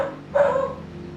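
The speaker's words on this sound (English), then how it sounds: "That's my dog, Emmy." Emmy, a pet dog, lets out a single short bark that trails into a brief whimper, close and fairly clear over a quiet background.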